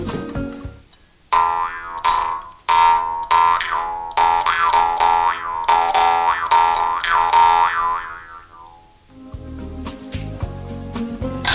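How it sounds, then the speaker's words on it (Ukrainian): A Carpathian jaw harp plays close and clear, its twangy buzz sliding up and down in repeated vowel-like swoops, fading out before a brief lower twanging resumes. "Карпатська дримба."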